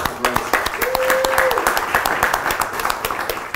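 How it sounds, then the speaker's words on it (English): An audience at a comics forum keynote applauds a scholarship recipient, with steady, fairly dense clapping from a crowded hall and a few voices mixed in. "let me just a quick round of applause for Grace."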